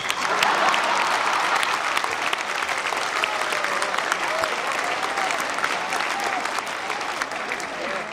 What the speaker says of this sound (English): How about a nice round of applause for my ex-wives?